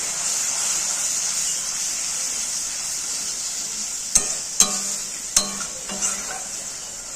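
Ground cumin, coriander, chili and turmeric fry in oil with a steady high hiss, then a few sharp scrapes and knocks of a spoon stirring the pan near the end, close by.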